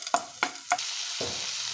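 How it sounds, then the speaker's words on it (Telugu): Tempering spices for a spinach fry drop into hot oil in a pan, with a few quick crackling bursts followed by a steady low sizzle, close and quiet. "పోపు దినుసులు వేసుకొని ఫ్రై చేసుకుందాం."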